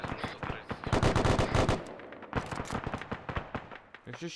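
Rapid bursts of machine gun fire in the video game Arma 3 crackle in dense, rattling volleys, with scattered single shots and a faint voice underneath.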